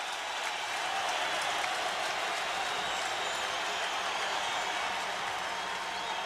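A basketball arena crowd at an NBA playoff game roars and applauds on its feet, a steady, dense wall of cheering and clapping sustained without a break.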